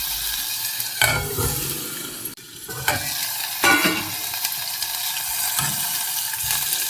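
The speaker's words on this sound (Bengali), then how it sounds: "তেল ছাড়া ভাজা হচ্ছে, তেল বের হচ্ছে।" Swamp eel fries without oil in a covered pan, giving a continuous sizzle and crackle broken by a few louder stirring scrapes and clatters, close and fairly loud.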